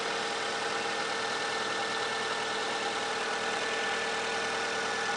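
A Mazda 626 engine idles steadily just after a fuel filter replacement, a continuous, even mechanical hum close by with no talk.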